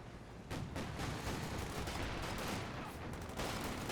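Dense bursts of gunfire crackle continuously in a Company of Heroes 2 battle, overlapping shots and rattling volleys filling the short stretch at close range.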